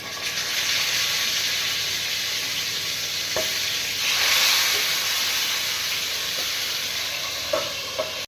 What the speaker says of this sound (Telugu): ఇందాక స్టీమ్ చేసుకున్న చికెన్ని కూడా పెట్టేసుకొని ఫ్రై చేసుకుందాం.